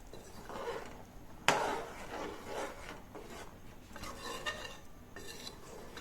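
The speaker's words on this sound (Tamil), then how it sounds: "சேர்த்துட்டு நல்லா எல்லாத்தையும் கலந்து விட்டுக்கிறேன்" A utensil scrapes and stirs through thick bottle gourd and chicken head curry in a pot, with one sharp clank of metal and ongoing rubbing sounds.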